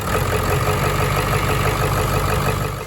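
Ford 7.3 Powerstroke diesel engine idling steadily up close, a dense continuous rumble with a faint rhythmic knock and no talking.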